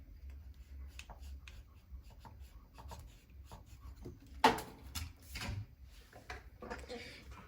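Jade succulent branches being cut: a sharp snip stands out midway among quieter scraping and rubbing handling noises, close-up, with light background sounds throughout.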